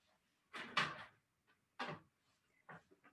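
A household door being opened to let a cat through, heard as a few close wooden clunks and knocks with a latch-like click, spaced irregularly in a quiet room.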